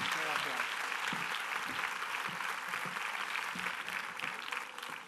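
Audience applause at the opening proclamation of the Mijas town fair, a broad steady crowd clapping heard at a moderate distance, sustained throughout with faint voices underneath.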